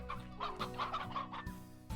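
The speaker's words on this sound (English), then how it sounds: "one briar hen, one stony hen" Briar hen and stony hen from the video game Slime Rancher cluck in quick, repeated bursts, moderately loud and close, over a steady game soundtrack with no talking.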